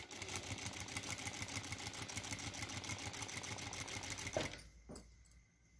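A sewing machine stitches fabric in a fast, steady mechanical chatter for about four seconds, then stops abruptly, leaving a couple of faint clicks.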